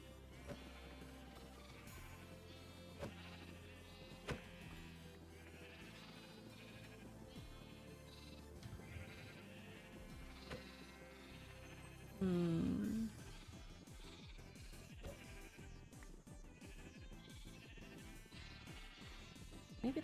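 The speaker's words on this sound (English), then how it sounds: "Sorry, little sheep." Sheep bleating in the Minecraft video game, a brief burst rising out of a dense bed of game music and other sounds, with several short calls around the middle.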